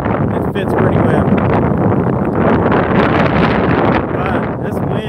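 Strong outdoor wind in Laughlin, Nevada, buffeting straight into the microphone as a loud, continuous roaring rumble with gusty swells, and a voice faintly mixed in beneath it.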